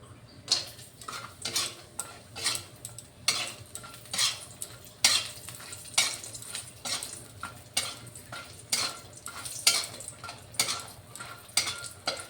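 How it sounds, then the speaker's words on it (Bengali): Bori lentil dumplings fry in oil in a kadai, a soft sizzle beneath repeated close scraping and clinking of a spatula against the pan, in irregular bursts. "কড়াইতে কয়েকটা বড়ি ভেজে নিলাম"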